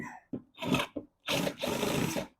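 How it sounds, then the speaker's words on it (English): A 1/4 inch bit drills through a BMW Z3 trunk panel in short, close, rasping bursts, several quick grinding spurts separated by brief pauses. "now I switched over to my 1/4 inch bit."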